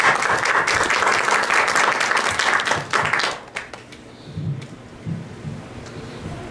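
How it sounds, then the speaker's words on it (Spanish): Audience applause at an art and design colloquium rises as a loud, dense wash of clapping for about three seconds, then quickly dies away into quiet room sound with a few faint stray noises. "Mejor démosle un aplauso"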